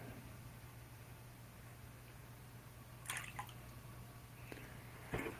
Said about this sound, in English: Let's do a quick little rinse of this bowl and add some clean water to it.